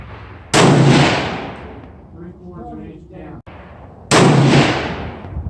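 Two loud, close rifle shots at a range, from a Savage 111 and a Weatherby in 7mm Remington Magnum, each a sharp blast with a short decaying tail, with a brief spoken exchange in the gap between them.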